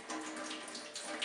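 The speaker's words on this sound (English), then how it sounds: "then we're going to add some water to it" Lukewarm water pours steadily into a microworm culture, a close, continuous splashing rush lasting about a second.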